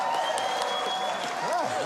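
An audience applauds at an awards concert night, a steady wash of clapping with some cheering voices and whistles throughout the short stretch.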